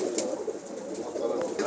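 Faint, steady cooing from pigeons being checked at a loft, a soft continuous murmur with occasional brief chirps, no clear voices.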